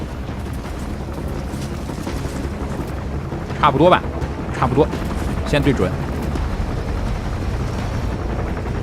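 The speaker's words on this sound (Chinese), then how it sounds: "直升飞机来了，哎，停下了。" A helicopter arrives in the video game Metal Gear Solid V as a steady, rumbling rotor drone that holds throughout while someone speaks over it.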